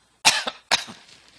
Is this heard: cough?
yes